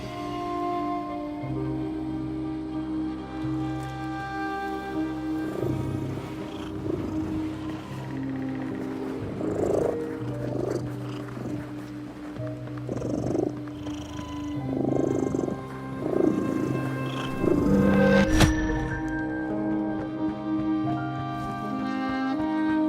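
Cat purring in the video game The Midnight Walk, a low steady purr rumbling under a soft musical score, continuous and close, with a brief louder hit near the end.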